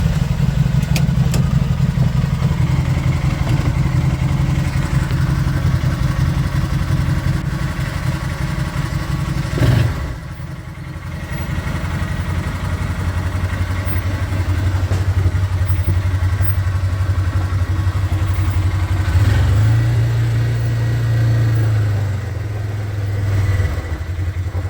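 An Arctic Cat Prowler XTZ 1000 UTV with a fault that leaves it barely able to move, its engine running at a steady close idle, with a brief shift in pitch midway and a short rev near the end, no talking.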